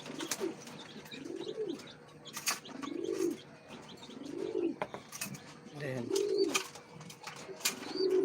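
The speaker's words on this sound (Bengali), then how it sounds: "হাটে গেলে কিছু লোক আছে এরকম জোরে জোরে যে কবুতরগুলো ডাকে এই টাইপের নর কিনতে চায়" Pigeons coo repeatedly in soft rising-and-falling calls at a fairly regular pace, close by, with faint chirps and some rustling in between.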